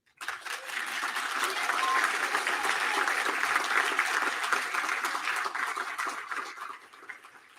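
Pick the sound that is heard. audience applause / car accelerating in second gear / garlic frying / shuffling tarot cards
audience applause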